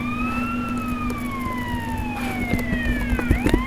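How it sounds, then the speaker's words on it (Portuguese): Police car siren in a video game, a steady wailing tone gliding slowly downward and then rising again, loud and continuous over a constant low engine hum with a few clunks near the end. "Sirene ali."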